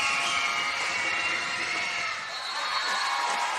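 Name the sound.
basketball crowd cheering at girls' game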